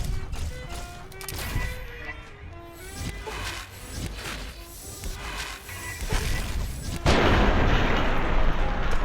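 Weapon fire in the video game Fallout: New Vegas, Old World Blues add-on: repeated booming shots and bursts under a busy combat soundtrack, growing louder and denser toward the end, with a voice briefly heard.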